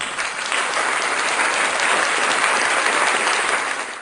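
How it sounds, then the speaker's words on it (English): Crowd in a university lecture hall applauding, a sustained dense clapping that swells and holds for several seconds before tapering off at the end. "probably there's a lot of cheering going on right now"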